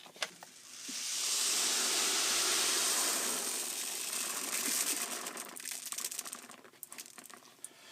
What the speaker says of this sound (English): what we're going to do is just dump our shot back in a bag